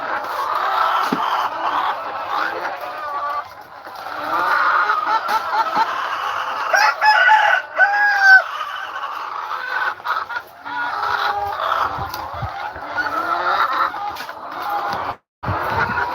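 A flock of chickens clucks and squawks continuously, with a rooster crowing partway through, busy and close.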